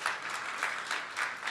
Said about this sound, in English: So let's give an applause to that.